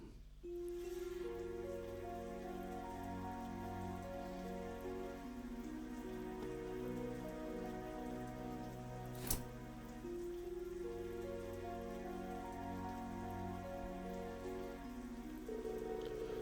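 Heavy rain pours steadily in Trails of Cold Steel III, a dense, constant hiss of downpour with a layer of tonal game music underneath and one brief sharp tick partway through.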